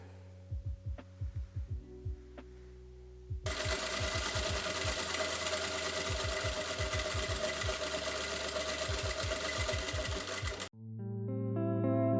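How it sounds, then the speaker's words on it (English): A sewing machine top-stitches folded skirt edges: a few short rattling bursts, then a long steady whirring run up close, ending abruptly as music comes in. "For the edges, I'm simply folding them over twice and then I'm gonna top stitch them."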